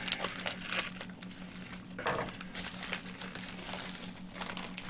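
Tape and wrapping layers crinkle and rustle close up as a heavily taped parcel is torn open, with steady crackling and brief tearing bursts over a low background hum.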